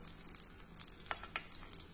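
Stuffed bell peppers go into about 1.5 tablespoons of hot oil in a wide, thick-bottomed kadhai, giving a faint, steady sizzle with a few soft pops and clicks.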